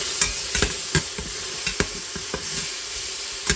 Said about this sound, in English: And the garlic, and let that saute up just a little bit.